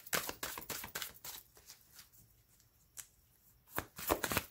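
Tarot cards are shuffled in quick, close, crisp bursts, with a quieter pause in the middle before another run of riffling.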